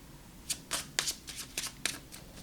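Tarot cards are shuffled by hand in quick riffling bursts, about seven crisp papery flutters close to the mic, with no talking.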